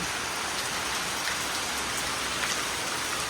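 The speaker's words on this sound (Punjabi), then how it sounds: "ਤੁੱਪਾਂ ਵਿੱਚ ਪੈ ਰਿਹਾ ਮੀਂਹ" Steady, dense rain falling in bright sunshine, a continuous hiss of drops hitting surfaces close by, with no voices.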